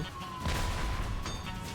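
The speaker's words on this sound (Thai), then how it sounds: "ไอ้ปืนใหญ่นี้มันโคตรมัน" A cannon fires in the Roblox game Dead Rails while fighting zombies, with booming blasts around the middle and again near the end over a noisy, rumbling background.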